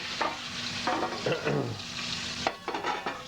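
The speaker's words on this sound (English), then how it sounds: "Let's see if we're going to try to brown it to the bottom of the pan, and we want to be very careful not to have too much oil in there." Pork browning in a lightly oiled pan, a steady close sizzle broken by repeated scraping and stirring strokes of a utensil against the pan, with no talk.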